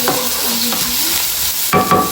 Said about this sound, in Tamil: ப்ரோக்கோலி வறுக்கிறதுக்கு எண்ணெய் கொதிக்க விட்டுட்டேன்